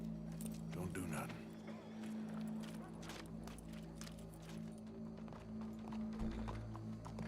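Horse hooves clop in Red Dead Redemption 2, faint and irregular under game voices and ambient noise.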